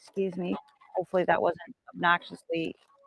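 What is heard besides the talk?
No everyday noises stand out.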